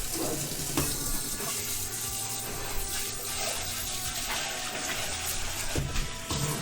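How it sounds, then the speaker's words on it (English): Kitchen tap water runs steadily and loudly into a pan in a sink as it is cleaned out, a continuous splashing hiss with small clatters, no voices. "Going to clean out the pan from earlier."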